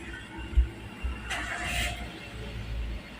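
Toyota Avanza / Daihatsu Xenia engine cranking and starting, a short starter burst followed by a brief rise as it catches, then settling into a steady idle; moderately loud and close, with no talk.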